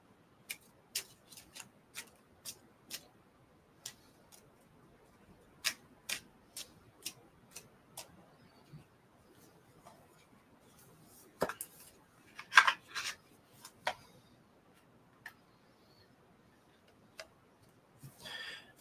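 A deck of oracle cards being shuffled, soft irregular close taps and flicks scattered over a quiet room, with a brief busier flurry partway through.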